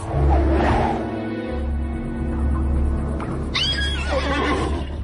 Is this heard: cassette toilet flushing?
no